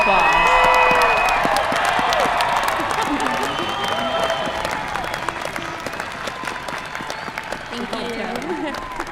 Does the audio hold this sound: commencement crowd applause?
yes